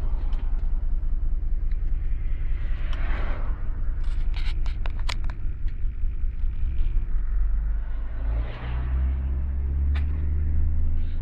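A GM car drives on the road during a test for a faulty left front ABS wheel speed sensor, with a steady low rumble of engine and tires plus occasional small rattles and clicks inside the cabin.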